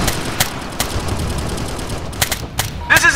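Gunfire in Operation Flashpoint: Red River, scattered sharp rifle shots at irregular intervals over a low battlefield rumble, with a quicker cluster of shots near the end.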